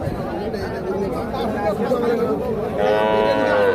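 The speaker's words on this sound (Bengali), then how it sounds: "আমরা এখান থেকে বেছে বেছে কিছু গরু দেখাচ্ছি" Cattle low at a busy livestock market, one drawn-out moo rising near the end over the steady chatter of a crowd of voices.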